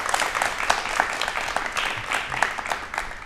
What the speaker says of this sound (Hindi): ताली हो जाएगा मैम के लिए।